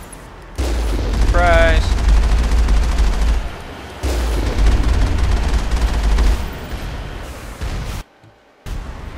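Rapid turret gunfire in Mass Effect rattles loudly in two long sustained bursts, with a low rumble beneath and someone speaking briefly over it.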